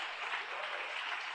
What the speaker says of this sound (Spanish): dése un fuerte aplauso